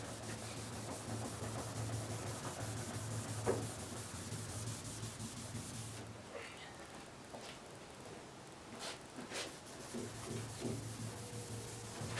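Car paint being color sanded by hand with a small piece of sandpaper, a faint close rubbing scrape in soft back-and-forth strokes, quieter and more broken in the second half.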